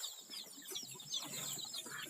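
On a poultry farm, a house of five-day-old chicks keeps up a faint, continuous chorus of high peeps and soft clucks with no voices.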